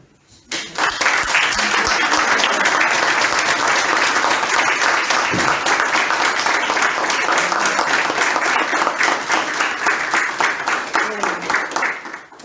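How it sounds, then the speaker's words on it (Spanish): An audience at a political rally in Florencio Varela breaks into loud, sustained applause that starts abruptly and carries on steadily for about eleven seconds, with dense clapping filling the space. "un aplauso"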